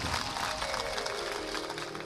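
A devotional audience at a Shreenathji bhajan program claps for a Surdas bhajan verse, a dense, steady wash of applause filling the space without a break.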